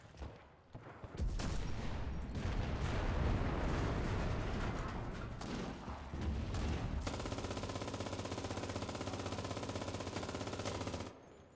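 A machine gun in the World War II shooter Enlisted fires long, loud, sustained bursts during an Al Har defence battle, with a dense roar of continuous shots and a brief pause before firing resumes until near the end.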